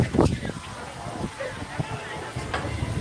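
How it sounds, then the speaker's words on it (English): Wind buffets the microphone in gusty rumbles outdoors at EPCOT, Disney World, with faint clinks and rustling in the background. "It's windy."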